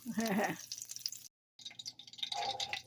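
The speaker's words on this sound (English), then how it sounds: "Look at that pop, pop, sizzle, sizzle." Butter and olive oil crackle and pop in a hot pan, a steady sizzle broken by a brief silence. A voice is briefly heard near the start.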